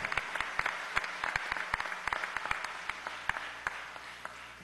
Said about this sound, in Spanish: Un aplauso para María Alcira Matute e Isidoro Duarte